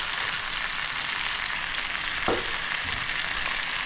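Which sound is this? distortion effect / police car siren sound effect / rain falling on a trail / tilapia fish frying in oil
tilapia fish frying in oil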